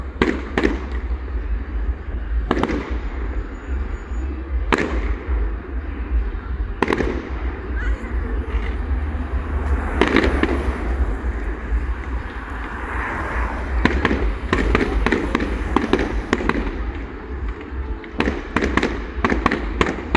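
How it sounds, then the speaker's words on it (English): A 2025 fireworks display at Rhyl crackles and booms, with repeated sharp bangs spread irregularly through the clip over a low rumble, heard from a distance. "This is the fireworks display 2025 for Rhyl."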